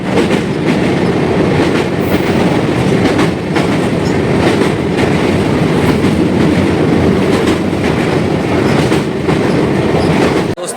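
A train rolls into Varanasi (Banaras) railway station with a steady, loud rumble and clickety-clack of carriages that continues throughout, no voices heard.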